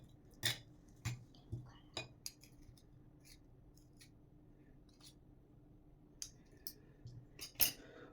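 Nila (Ngola) powder is mixed in a dish with a utensil, giving sharp, faint clinks and scrapes spaced irregularly, a cluster early on and another near the end, in an otherwise quiet room.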